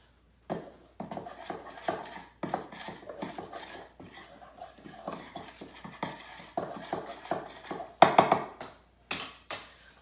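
Dry cookie ingredients are mixed in a bowl, with a utensil tapping and scraping in short, uneven clinks and rattles, close and fairly quiet.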